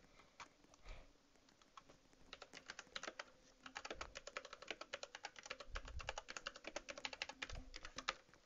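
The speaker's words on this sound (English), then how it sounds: "I'll just type," Rapid keystrokes on a computer keyboard during Murder Mystery 7 gameplay, irregular quick clicks in bursts, fairly close and moderately loud, with soft low thumps in the background.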